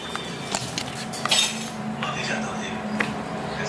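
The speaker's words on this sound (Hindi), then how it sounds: "इधर इंडक्शन चल रहा है, उधर मम्मी बर्तन धुल रही हैं" Dishes being washed in a home kitchen with an induction cooker running, giving irregular light clinks and clatters of utensils at moderate distance over a steady background hum.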